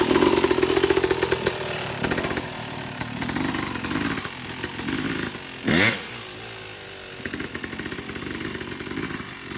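A Yamaha YZ250 two-stroke dirt bike fitted with a Rekluse auto clutch pulls away in first gear without the clutch lever, its engine crackling and revving in uneven bursts, fairly close, with a brief loud rev midway.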